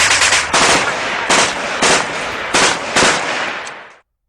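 Sniper gunfire as a sound effect: about seven loud, sharp shots in quick succession, each with a booming tail that runs into the next, close and forceful, ending abruptly.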